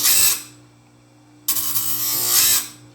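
A chainsaw grinder set at about a 75-degree angle sharpens a sawmill blade. It makes two harsh, high-pitched grinding passes, a short one and a longer one, separated by a quiet pause with a low motor hum.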